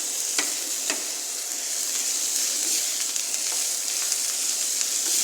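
Sliced bitter gourd and egg sizzle in a hot pan, a bright continuous hiss with occasional soft clicks of a utensil stirring, close and even throughout with no talking.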